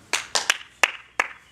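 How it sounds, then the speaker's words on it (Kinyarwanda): Six crisp, close hand claps in an uneven rhythm, each snapping out clearly against a quiet background. "Nawe iha amashyi."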